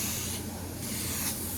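A Gaahleri GHPM-Mobius SP airbrush sprays in a steady, close, breathy hiss with a wide-open pattern, surging slightly in two pulses as the trigger is worked.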